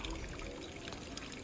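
A small stream of water flowing west of Cangar bridge makes a steady, close rushing trickle that continues without a break, with no voices over it.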